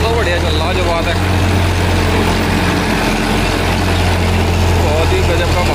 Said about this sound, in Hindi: ये ट्रैक्टर तो बढ़िया चल रहा